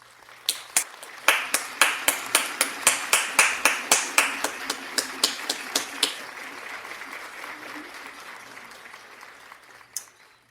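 One person clapping in a cheer: about twenty sharp, evenly spaced hand claps in a quick steady rhythm, close and fairly loud, then quiet room tone with a single tap near the end.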